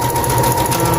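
A sewing machine stitches fabric for baby sarouel pants, a steady, close, continuous motor whir with even rapid needle rhythm and no talk.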